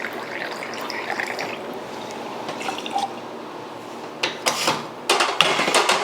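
About 30 ml of fresh lemon juice being poured into a jigger or cocktail shaker for a sour-style cocktail, with a soft steady liquid trickle followed by a few louder clinks and splashes near the end.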